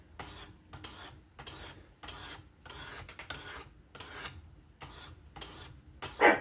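A Kizer October folding knife with a 20CV steel blade is sharpened on a Work Sharp Professional Adjust. About ten even, raspy abrasive strokes follow one another at a steady rhythm, close and fairly quiet, with short pauses between them.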